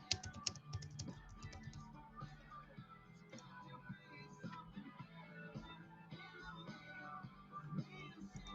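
Rapid, uneven clatter of keys on a computer keyboard, quiet and close, with bursts of fast keystrokes continuing steadily and no talk over it.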